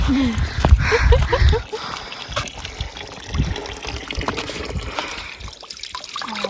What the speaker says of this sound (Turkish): Tek aktif olan çeşmemiz bu. O yüzden bir elimizi yıkayalım.